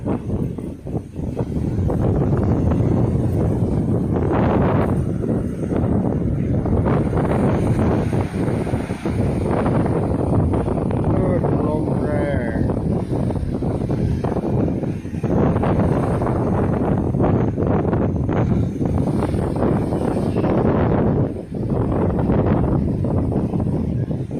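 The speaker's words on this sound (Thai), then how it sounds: "บรรยากาศชายหาดนะครับด้วยลมแรง" Strong wind buffets a beach at Khao Lak under red-flag conditions, with a constant loud roar of gusts and surf that rises and falls throughout, no voices standing out.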